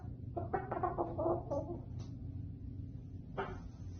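Hens in a backyard flock cluck in a quick burst of several short calls, followed by a lone louder cluck after a pause, over a steady low background hum.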